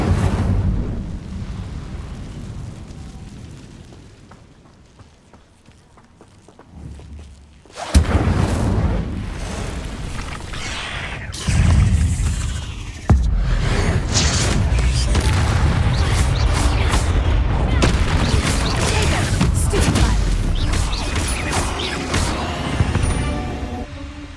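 In the Hogwarts Legacy video game, an Incendio fire spell is cast, bursting into loud, booming whooshes and crackling roars that swell and repeat over a rumbling combat soundscape.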